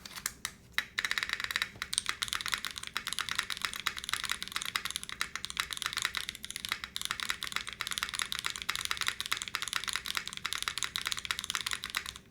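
Rapid, continuous clacking of a modded KBDFans Margo mechanical keyboard being typed on, crisp and close, with a steady rhythm throughout and no talking.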